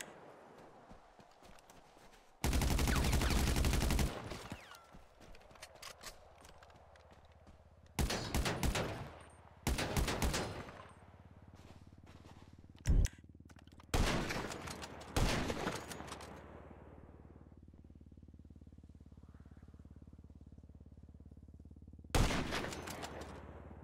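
Gunfire in GTA Online rings out in several loud, sharp bursts separated by quieter stretches, some shots single and some in quick clusters, over a low steady background hum.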